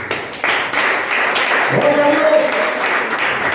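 A church congregation claps and applauds steadily through a worship service while someone speaks over the clapping.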